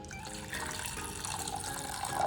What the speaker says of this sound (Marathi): त्यामध्ये 1 कप पाणी टाकायचं आहे